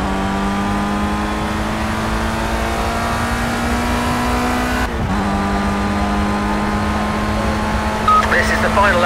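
A race car engine in the Project CARS racing game holds a high, sustained drone, with a brief dip near the middle as it shifts gear and then climbs again, with talk over it.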